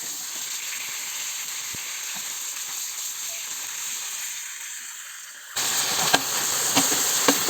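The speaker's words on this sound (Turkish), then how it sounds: "Önce 5 dakika bir pasta kaşıkla eze eze kıymamı pişiriyorum." Half a kilo of minced meat fries in a pan while being mashed with a spoon, producing a continuous close sizzle and hiss that grows louder near the end, with a few sharp scraping taps.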